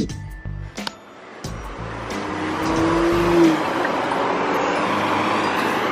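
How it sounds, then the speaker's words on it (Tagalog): Cars drive past on a city street in Canada in cold weather, a few footstep-like knocks at first, then a rising roar of traffic as a vehicle passes close by, steady and fairly loud. "Madami ng kotse."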